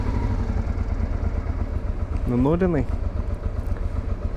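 Old motorcycles ride along a road near the Ukrainian border in Romania, their steady engine drone filling the clip, with a brief rising and falling revving pass midway and a voice speaking over it.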